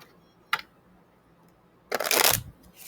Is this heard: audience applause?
no